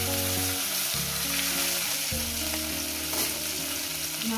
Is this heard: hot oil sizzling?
yes